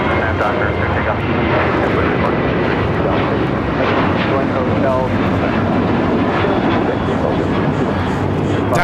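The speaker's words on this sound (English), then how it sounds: "That was Alaska Airlines 1398 taking off to Mazatlan on a 737-900ER." An Alaska Airlines Boeing 737-900ER takes off at LAX, its jet engines producing a loud, steady broadband roar that holds throughout, with voices faintly mixed in underneath.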